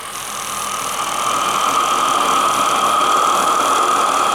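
RC model steam engine run on gas through a single-membrane regulator, accelerating to full throttle at about 2 bar: a steady mechanical whirring hum that rises slightly and holds loud, with no talk.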